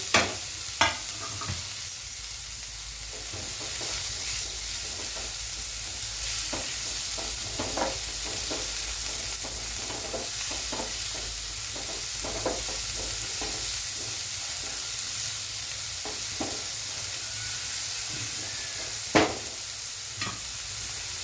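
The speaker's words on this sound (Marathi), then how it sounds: "चांगलं आता परतून घेऊया." Green garlic and spring onion stir-fried in a pan, with a faint steady sizzle under repeated scraping and stirring clicks of a spatula, heard close and without talk.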